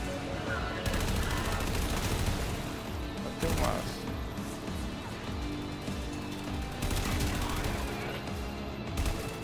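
Rapid gunfire in the Warframe 1999 demo, dense bursts of automatic shots running almost continuously with brief pauses, loud over game music, with someone speaking briefly.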